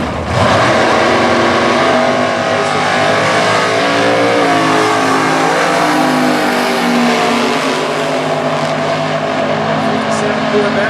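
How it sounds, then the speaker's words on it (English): Drag race cars, a 1957 Corvette and a 1964 Nova, accelerate side by side in a Super Gas event, a loud continuous engine roar with rising pitch sweeps, overlaid by an announcer's commentary. "side-by-side drag race, 2-count performance"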